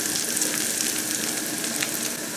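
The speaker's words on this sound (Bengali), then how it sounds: "পেঁয়াজগুলো আমি খুব ভালো করে ভেজে নেব" Onions fry in a pan with a dense, steady sizzle that stays loud and close throughout, no voices over it.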